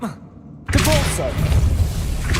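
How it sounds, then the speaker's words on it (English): The Depulso force-push spell cast in Hogwarts Legacy: a sudden loud whooshing thump that cuts in after near-silence, followed by a rumbling magical burst with a voice over it. "Depulso!"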